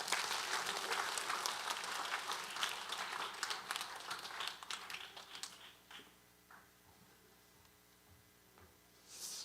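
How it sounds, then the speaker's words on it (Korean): Audience applause at a family-life seminar, a dense wash of many hands clapping for about six seconds before thinning into scattered claps and quieter room sound. "네, 우리 박수 한번 쳐주세요."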